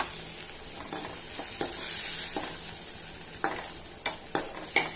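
A pot of beetroot rasam boils steadily with a constant bubbling hiss, broken by several soft pops and clicks that grow more frequent toward the end.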